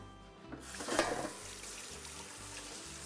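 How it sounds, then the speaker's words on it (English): Seeded, deveined chili peppers are rinsed under a running kitchen tap, a soft, steady stream of water that starts abruptly and continues quietly. "Just going to give these a quick rinse."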